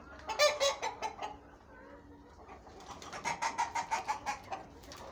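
Plymouth Rock and Black Australorp chickens, including a rooster, cluck in soft rapid bursts nearby, two short runs of clucking separated by a quieter pause.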